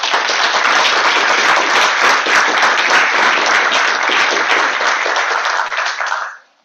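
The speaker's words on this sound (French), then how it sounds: "je vous propose de les applaudir chaleureusement." Warm, sustained applause from an evening debate audience thanking the panel, a dense, loud wash of many hands clapping throughout before fading out at the end.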